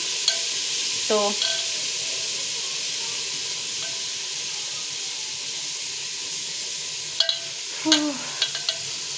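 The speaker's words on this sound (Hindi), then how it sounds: "तो यहाँ मैंने कुकर चढ़ा के रखा हुआ है, और वो देखिए मैं इस तरीके से दाल डाल रही हूँ।" Lentils tipped into a pressure cooker on the stove, with a steady frying sizzle and hiss throughout and a few brief clinks and scrapes of the pan near the middle and toward the end.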